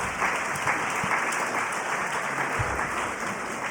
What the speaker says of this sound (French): Oui, oui, applaudissez-les.